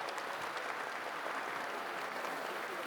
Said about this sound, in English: Can we have a round of applause for her, ladies and gentlemen